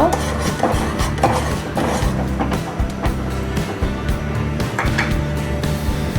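A spoon stirs sugar into boiling milk for fruit custard, making steady clinks and scrapes against a metal pot amid continuous bubbling, with faint background noise.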